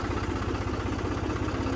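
Tractor engine running steadily at idle, a close, throbbing low diesel chug with an even pulsing rhythm and no talking over it.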